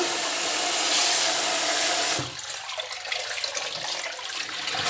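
Tap water runs loudly and steadily from a faucet over something being washed, then cuts off after about two seconds, leaving quieter drips and faint handling noise up close.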